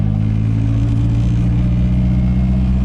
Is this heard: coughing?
no